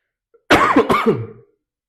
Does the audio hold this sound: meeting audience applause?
no